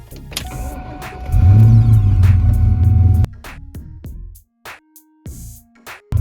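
A car engine cranks and catches in a single loud, low roar lasting about two seconds, then drops away to short electronic beeps and chimes, with no talk.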